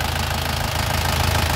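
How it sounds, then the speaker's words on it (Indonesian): A first-generation Isuzu Panther LV 2.5 capsule engine idles with a continuous, loud, steady low rumble and a fine repetitive knock, heard up close and alone. "mesin seperti ini, suaranya halus"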